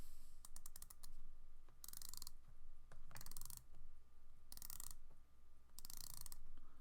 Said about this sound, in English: Let's have a listen to this bezel. It is just a 60 click unidirectional bezel.